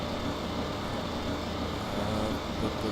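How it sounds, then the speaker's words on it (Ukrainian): A tractor pulling a trailer in the video game Farming Simulator 2015, a steady, moderate engine drone with constant broadband road rumble and no talking. "трактор із прицепом"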